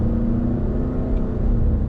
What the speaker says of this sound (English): The 4-cylinder does buzz, but it's not a bad sounding engine.